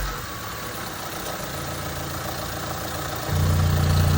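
A car engine with a rattle from low, dirty oil idles steadily and then rises to a fuller, louder drone near the end as a little gas is given, close and alone.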